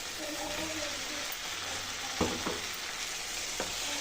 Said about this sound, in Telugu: ఈ చికెన్ అంతా బాగా కలుపుకోవాలండి మసాలా అంతా బాగా పట్టేలాగా